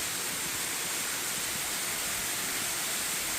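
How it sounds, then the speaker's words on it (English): An underground waterfall inside Mammoth Cave in Kentucky produces a constant, dense rushing hiss of falling water, steady and fairly loud throughout with no voices. "Gotta walk past the waterfall."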